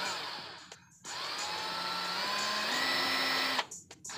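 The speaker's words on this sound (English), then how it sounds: "Just drill through them." A faulty power drill whirs steadily for a few seconds while drilling through two race car door straps, its pitch rising slightly partway through, starting and stopping abruptly with brief pauses around it.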